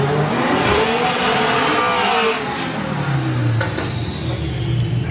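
A VW drag racing car at Bug Jam roars past up close, its loud engine note sweeping down in pitch as it goes by, with continuous crowd and track noise beneath.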